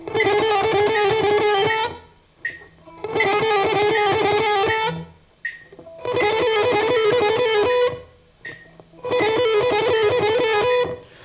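Four bursts of rapid, distorted electric guitar shredding, each a dense run of fast picked notes, separated by brief silences.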